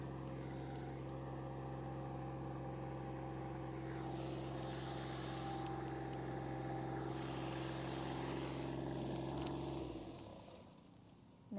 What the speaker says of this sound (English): That tractor is really doing my nut in.